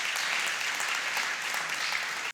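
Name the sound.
audience applause at award ceremony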